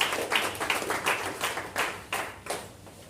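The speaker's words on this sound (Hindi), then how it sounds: "इनके लिए जोरदार तालियां" Audience applause at an insurance sales seminar, a few seconds of uneven, fairly close clapping with rhythmic bursts and no talk.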